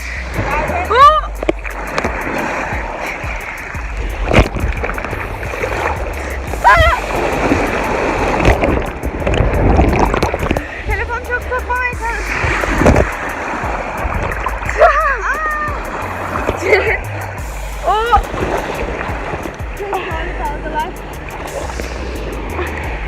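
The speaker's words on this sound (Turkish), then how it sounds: "Arkadaşlar dalgalarla savaşıyoruz." Sea waves at an Antalya beach surge and splash repeatedly around someone in the water, loud and close, while people talk, shout and laugh over the churning surf throughout.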